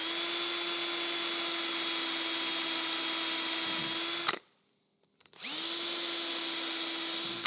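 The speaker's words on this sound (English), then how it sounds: "So if I grab the drill, we'll do that. So drilling through here, we should give us a datum to work to" A power drill bores through a metal part during a Fiat Dino restoration, whining at a steady high pitch, cutting out for about a second midway, then spinning back up and running steadily again.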